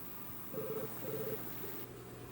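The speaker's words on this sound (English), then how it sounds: "You hear the phone?" A telephone rings faintly in the background, two short trilling bursts about half a second apart over a low steady hum.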